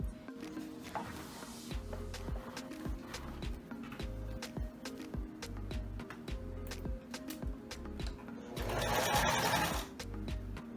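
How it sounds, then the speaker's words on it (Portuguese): A sewing machine sews a seam one presser-foot width from the edge on a gathered skirt. Close, steady stitching runs in repeated rhythmic bursts with brief pauses, and a short louder rustle of fabric comes near the end. "E aí, eu vou fazer mais uma costura aqui, que vai ser uma costura com largura de pé de máquina"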